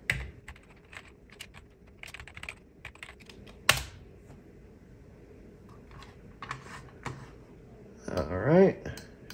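Typing on a computer keyboard while setting up an eGPU on a 2013 Mac Pro, with bursts of close key clicks, a sharp louder tap partway through, and a short stretch of faint talking near the end.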